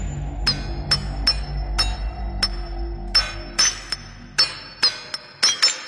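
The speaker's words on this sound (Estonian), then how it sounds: "Kas kuuled seda kõrget kõlksuvat heli? Nii lüüakse kirkaga vastu kivi." A pickaxe strikes stone in a series of sharp, high metallic clinks, sparse at first and then quicker near the end, each ringing briefly over a low background hum.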